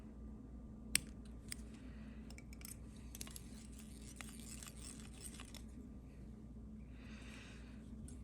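Small scissors trimming tying thread close on a Klinkhammer grannom caddis dry emerger fly: a few faint, sharp snips and light clicks up close over a quiet room hush.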